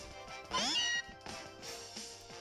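Meowth's cry in the video game Pokémon Sun: a loud, bright synthesized cat meow with a sliding pitch, followed by softer game tones over looping background music.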